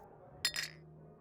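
Two glasses clink together in a toast at a fancy bar, a bright double chime that rings briefly over a quiet background hum.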